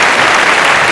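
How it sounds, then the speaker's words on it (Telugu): Studio audience at a Telugu game show clapping together, a loud dense burst of applause filling the brief moment. "ఈ గేమ్ షోకి వచ్చినటువంటి మేడం గారికి సార్ కి కూడా అందరూ ఒకసారి క్లాప్స్ కొట్టండి"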